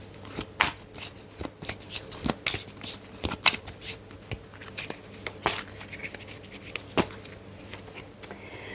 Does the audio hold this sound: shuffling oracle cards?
yes